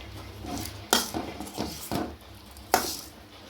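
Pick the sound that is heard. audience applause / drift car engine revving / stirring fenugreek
stirring fenugreek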